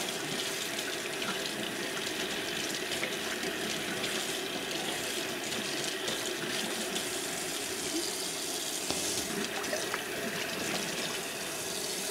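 Running tap water pours steadily over freshly harvested giant purple lettuce in a sink, a continuous close hiss and splash with no pauses and no talking.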